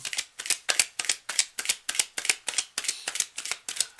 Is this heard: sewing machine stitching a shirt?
no